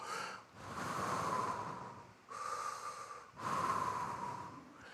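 A person breathes deeply to imitate the original name of God, three long airy breaths in and out with brief pauses between them, close and intimate, with no talking.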